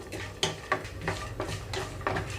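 Dry peanuts, chana dal, urad dal and fenugreek seeds roasting on low flame in a pan for ivy gourd chutney, with a spatula scraping and clinking against the metal in several sharp strokes over a soft background hiss.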